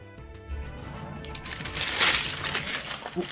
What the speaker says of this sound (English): Sorry for the crunch noise.